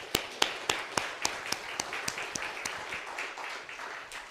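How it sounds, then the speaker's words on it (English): Scattered applause from a church congregation at a Sunday Methodist worship service, a series of distinct, sharp hand claps in a slowing rhythm that thin out and fade toward the end. "Let's give them one more round of applause."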